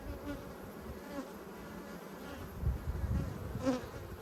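Honey bees buzz steadily around an open hive during an inspection of a large re-queened colony, a dense continuous drone with a few louder passes near the microphone.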